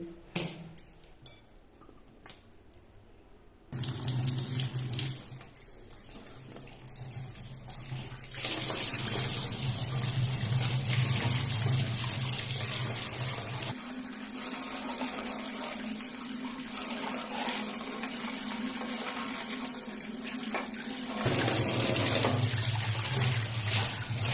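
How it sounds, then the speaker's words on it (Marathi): Kharshing pods are rinsed by hand under a running kitchen tap, a steady splashing stream whose tone shifts as the pods move in and out of the flow, with quieter handling noises before the water starts. "तर ह्या मी आता धुवून घेते"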